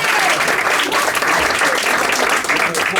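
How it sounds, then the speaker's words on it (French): An audience applauds loudly and continuously. The dense clapping lasts the whole stretch with no pauses. "c'est des applaudissements là, des applaudissements"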